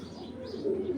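Netherlands pigeon squabs cooing softly in a short, low, continuous murmur, close by with a slight rise toward the end and no talking.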